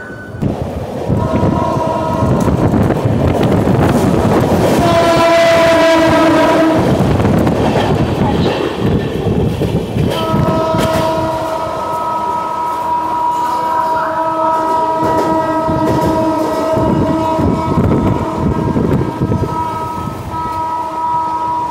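The Shantiniketan Express runs nonstop at 130 km/h between Howrah and Bardhaman, a loud, continuous rail roar heard from inside a general coach, with long horn blasts sounding over the rattle.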